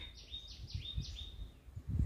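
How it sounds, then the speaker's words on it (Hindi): Small birds chirp in a few quick, bright bursts in the first half, moderately near, in the shade of oak trees near a village in Mukteshwar, Uttarakhand, over a low rumble of outdoor background noise. "चिड़ियों की चहचहाट।"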